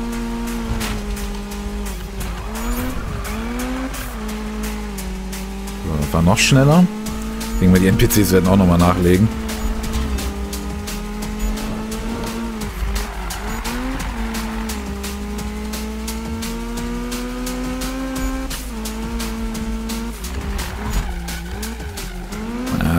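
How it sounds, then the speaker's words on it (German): In-game engine of a car in Need for Speed (2015), over 350 hp, revving and shifting through gears at close range, with a short burst of squealing tires midway, while someone talks over it. "Ich finde, der Wagen fühlt sich gar nicht so an, dass er über 350 PS hatte."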